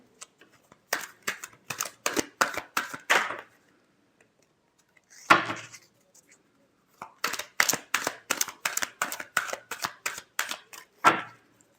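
Tarot cards are shuffled in quick rhythmic bursts of crisp riffling snaps close up, two long runs separated by a pause and a single slap, no talking.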